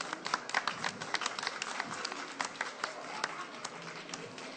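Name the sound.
studio audience applauding a contestant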